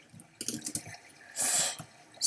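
Water in the Minecraft video game flows as a waterfall is placed in a cave. A few short drips and splashes come first, then a brief rushing burst, heard alone without talk.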